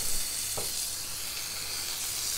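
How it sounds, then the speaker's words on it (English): Marinated chicken skewers of under fillets frying in hot oil in a pan, giving a steady, close, crackling sizzle with a constant hiss and no voices. "So can you hear that nice sizzle?"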